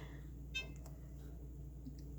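A timer in a spare bedroom gives a few short, faint beeps as it is started, heard once over a low steady room hum with no talking.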